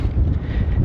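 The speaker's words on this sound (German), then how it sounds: "geht zum Glück ein leichter Wind" Light wind gusting on the sunny coast of Fuerteventura, a steady low rumble buffeting close against the microphone with no voices.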